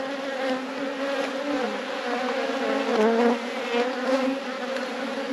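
Honey bees buzz steadily around an open beehive during a hive inspection, a dense, even hum that stays close and fairly loud throughout, with no talking.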